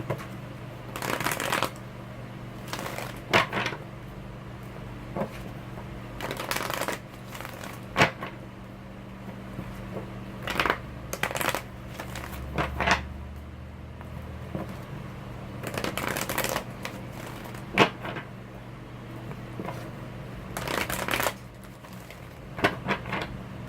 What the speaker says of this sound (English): let's shuffle these cards here and see what the cards have to say